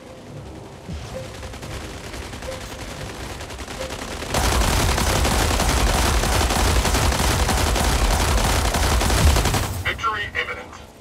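Rapid automatic gunfire from mech combat in the video game Mech Arena, a sustained loud burst of dense shots that swells midway, runs for several seconds, then cuts off abruptly.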